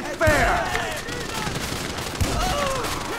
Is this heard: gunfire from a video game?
yes